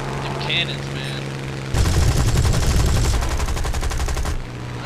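After a quiet stretch, rapid aircraft cannon fire in War Thunder bursts out loudly for a couple of seconds, a dense stream of shots that then cuts off.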